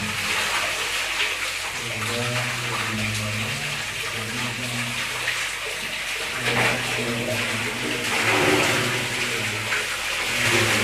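Strong, steady rush of an underground river flowing through a cave below a pit before it enters the subterranean channel, a dense continuous roar that fills the whole space with no breaks.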